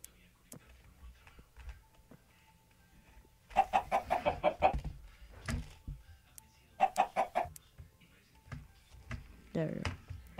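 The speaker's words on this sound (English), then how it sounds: "Let me go ahead and talk to the chickens here." Chickens in a Minecraft game give short clucking bursts in two clusters over a quiet background, up close and clear, with a voice talking at times.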